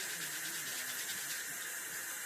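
Tap water runs steadily into a kitchen sink while dishes are rinsed, a close, even hiss of flowing water without talk.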